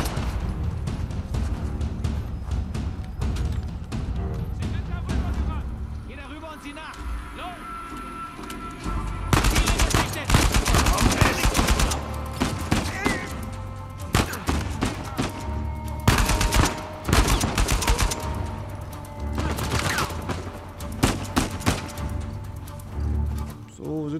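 Dense, loud video-game gunfire from Uncharted 4, with shots crackling in steady bursts. The firing grows heavier after the first third, and a voice is heard over the shooting.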